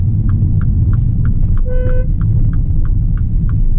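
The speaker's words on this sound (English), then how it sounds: "listen to the sound of this car's horn" A MINI Cooper S E Countryman ALL4 plug-in hybrid gives one short, mild, thin horn toot over a steady low car rumble, with faint regular ticking throughout.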